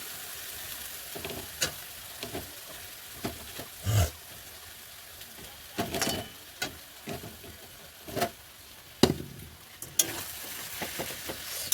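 Fish frying in hot oil with spices, a constant crackling sizzle punctuated by repeated louder bursts as the pieces are moved or turned, close and fairly loud, with no speech.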